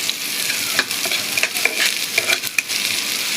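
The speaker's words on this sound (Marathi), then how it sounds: "आता कांदा जात आहे तेलामध्ये. आता मम्मी मस्त कांदा परतून घेत आहे." Onion sautéing in hot oil in a pan for tomato sambar, a steady close sizzle with a spoon stirring and scraping in brief clicks throughout, no talking.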